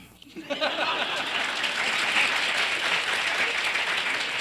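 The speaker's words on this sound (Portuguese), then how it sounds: "Agora aplauso." Audience applause at a talk, a dense wash of clapping that swells quickly and holds steady, with faint chuckles among the crowd.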